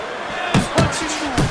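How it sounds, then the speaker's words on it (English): Punches landing to the head in the Fight Night Champion boxing game, three or four sharp thuds spaced about a quarter second apart over a steady arena crowd murmur. "Little head knocking with that right hand."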